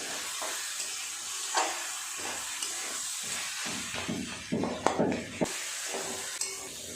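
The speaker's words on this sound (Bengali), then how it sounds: "খুব ভালো করে সমস্ত কিছু এইভাবে নেড়ে চেড়ে মিশিয়ে নেবে" A spoon stirs and mixes a vegetable chop mixture with sugar in a pan, giving a soft steady sizzling hiss with intermittent scraping and knocking clicks that grow busier toward the end.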